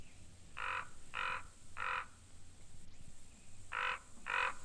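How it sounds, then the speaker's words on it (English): An American raven calls five times, three evenly spaced croaking notes and then two more after a pause, moderately distant over a faint hiss of background noise. "the American raven"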